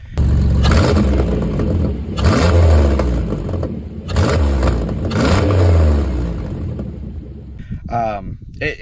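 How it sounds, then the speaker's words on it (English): A car engine with a modified air intake revs hard twice in strong surges, with a rushing intake whoosh and a throaty roar, settling between bursts before a brief whirring sound at the end. "play a clip of the air intake, like when I rev it and the air intake"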